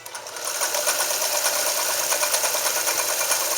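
A Morse straight stitch sewing machine runs steadily, stitching through thick material such as an army blanket, with a fast, even mechanical whir and ticking that stays loud and close throughout, no talking.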